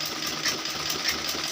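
A sewing machine stitches along the edge of a kurta, running in a steady, rapid mechanical whir with fine repeating ticks, close and alone without talk.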